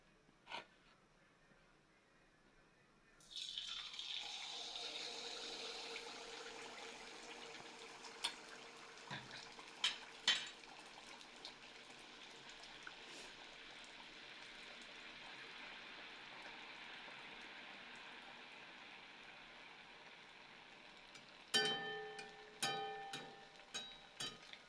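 Malpua batter poured into hot oil in a pan, a sudden onset of soft steady sizzling that continues evenly, with a few light clicks and taps near the end.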